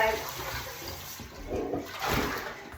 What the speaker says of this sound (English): that's not even that hot coming out the tap at the moment